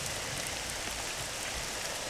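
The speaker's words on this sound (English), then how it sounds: "And it's raining really hard, and it's hard to see from up there." Dense, steady hiss of heavy rain in the video game RollerCoaster Tycoon 3, an even downpour with no breaks, fairly loud and close, no voices.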